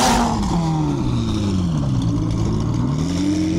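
A Ferrari at a car meet revs hard and drives past close by, its engine pitch swooping down and then climbing again, loud and continuous from start to finish.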